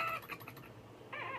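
Short bird calls in the video game Trollface Quest 2, two chirpy, clucking bursts separated by a brief pause, clear and close.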